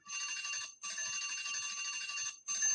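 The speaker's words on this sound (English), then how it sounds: "Well, there's the bell, Kojo." A bell rings in long, continuous bright trills broken by two brief gaps, loud and steady like an electric school-style bell, with no voices over it.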